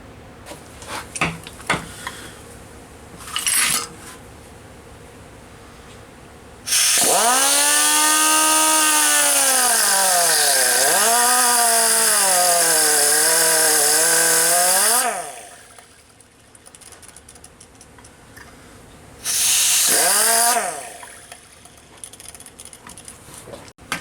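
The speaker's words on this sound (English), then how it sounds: "I'm going to see if I can't cut a little notch in there" A power tool cuts a notch into a stuck screw on a Yankee vise, a loud, steady high-pitched grinding whine lasting about eight seconds that sags and rises in pitch as the blade bites, followed later by a shorter second burst.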